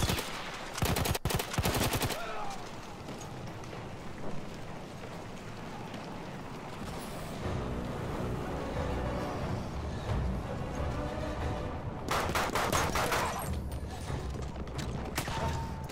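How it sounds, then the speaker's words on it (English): Rapid bursts of video game gunfire, loud clustered shots near the start and again near the end, with mechanical clatter and a sustained noisy bed between them. "Okay, I got a gun now."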